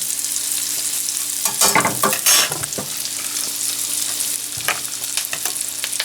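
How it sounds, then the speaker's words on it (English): Garlic, shallot, rosemary, thyme and lemon zest sizzle steadily in a freshly washed pan, with a couple of louder bursts as the aromatics are stirred. "I just washed my pan, add some garlic, shallot, rosemary and thyme, and also some of my lemon zest"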